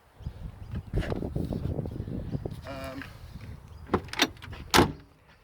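A poorly fitting car door is pushed shut, giving a few sharp, close thumps and clunks near the end after a stretch of shuffling handling noise and voices.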